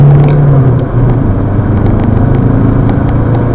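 A 2006 VW Jetta 1.9 cruises at about 60 mph, its engine drone and road noise steady and loud from inside the cabin, with a low tonal hum persisting throughout and no talking.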